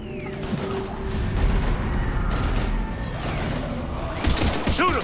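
Sustained gunfire in a chaotic Mass Effect 3 firefight against husks, steady and fairly loud throughout, with sharper bursts and clatter near the end.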